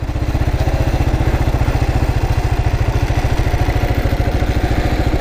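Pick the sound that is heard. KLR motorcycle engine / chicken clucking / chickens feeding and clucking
KLR motorcycle engine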